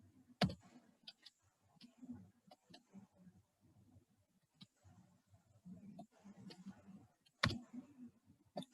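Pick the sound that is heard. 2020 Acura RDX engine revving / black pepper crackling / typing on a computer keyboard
typing on a computer keyboard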